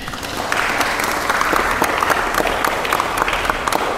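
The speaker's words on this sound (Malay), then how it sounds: "Tepuk tangan." A group claps together at a campus programme game session, a steady, moderately near round of applause lasting several seconds without talk.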